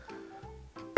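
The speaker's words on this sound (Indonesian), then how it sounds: "Sorry batuk" A man gives one short, sharp cough, loud and close to the microphone, after a moment of quiet murmuring.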